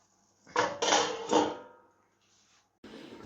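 A metal lid clatters onto a cooking pot, with a few sharp clanks and scrapes in quick succession, then a short quiet pause and another rattle near the end.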